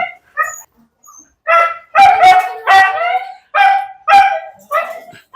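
A husky barks and yips repeatedly up close, loud howly barks coming in an uneven series with short pauses between them.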